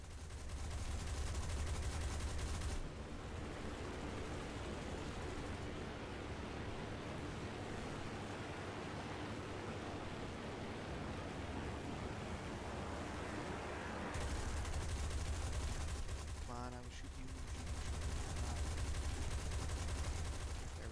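Continuous loud gunfire aimed at the player's aircraft in War Thunder, a dense wash of shots roaring without pause, briefly easing midway before surging again, with a short tonal chirp near the end.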